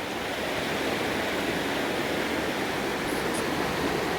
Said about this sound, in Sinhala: උඩහට වහිනවනේ ඉතින් මේ පැත්ත වතුර වැඩි වෙනවා.